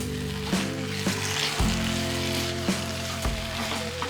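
Chicken ghee roast sizzling in ghee in a pan and being stirred, with a steady close frying hiss and several spoon scrapes and clanks against the pan.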